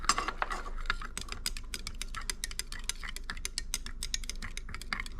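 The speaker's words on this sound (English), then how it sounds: "Give that a stir." A teaspoon clinks and scrapes against a small container while stirring a mixture, a quick rapid run of light metallic ticks close up with no talking.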